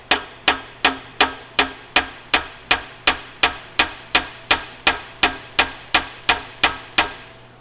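A hammer taps a part into a Morey vertical shaper: about sixteen sharp metallic strikes at a steady, even pace, loud and close, each ringing briefly, with no talk.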